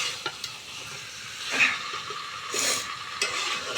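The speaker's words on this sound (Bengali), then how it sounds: "ভালো করে কষিয়ে নেব, কষিয়ে জল ঢেলে দেবো" Country chicken being stirred and fried in a pot over a wood fire, with a soft, continuous sizzle broken by a few scraping stirs and light clanks close by, and no voices.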